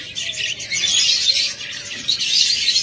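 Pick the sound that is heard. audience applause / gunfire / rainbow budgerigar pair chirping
rainbow budgerigar pair chirping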